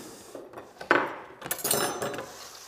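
Metal cutlery, a knife, fork and spoon, being picked up and set down, with a few close clinks and scrapes spread across a short stretch, one sharper clatter standing out.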